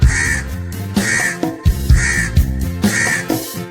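A crow caws loudly, four harsh calls in an even rhythm with short pauses between, close by.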